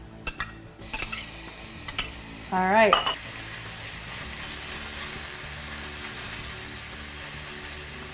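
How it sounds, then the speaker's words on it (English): Garlic and ginger fry in a hot pan with a steady, close hiss that continues throughout, while a utensil clinks and scrapes the pan early on and a voice speaks briefly. "Hear the sizzle?"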